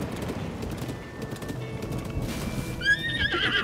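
A horse in The Legend of Zelda: Tears of the Kingdom gives a loud whinny over steady clip-clopping hooves, with the neigh rising sharply near the end.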